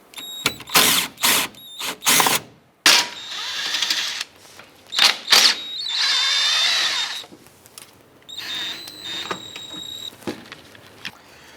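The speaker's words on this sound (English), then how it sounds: "There's a 10 millimeter bolt here, and there's 2 along the driver's side. Let's go ahead and remove these." A hand ratchet or power driver backing out 10 mm bolts on a 2004-2009 Dodge Durango during intake manifold work, heard as several loud, close bursts of rapid clicking and whirring separated by short pauses and small clanks.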